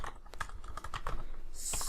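Python code is typed on a computer keyboard, with a quick run of close, crisp key clicks and a brief louder clatter near the end.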